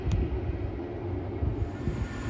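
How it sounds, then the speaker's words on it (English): A freight train passes nearby, bound for Daventry from Dollands Moor. Its low, steady rumble of wagons rolls along with rhythmic wheel thumps and holds a constant level, with no voices. "we've got another freight train passing through to Daventry from Dollans Moor"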